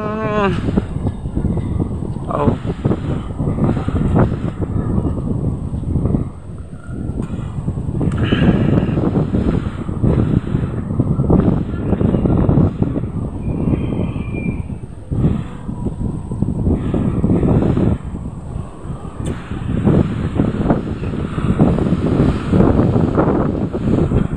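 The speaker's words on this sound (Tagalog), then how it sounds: "ang lakas ng hangin" Strong typhoon wind roars and buffets the microphone continuously, with surging gusts and a constant rushing noise throughout.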